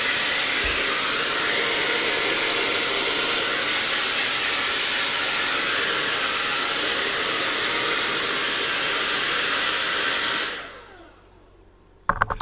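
A hair dryer blowing on a 26-inch curly reddish brown wig, a loud, steady roaring hiss running continuously for about ten seconds, then switching off and fading to a quiet room with a couple of clicks at the end.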